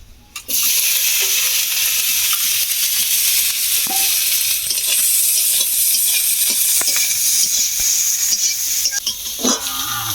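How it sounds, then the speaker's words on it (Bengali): Pre-fried shrimp sizzle in hot oil in a home kitchen pan, a loud steady frying hiss lasting throughout, broken by occasional clinks and scrapes of stirring. "আজকে আবার আর একটু ভেজে নেব"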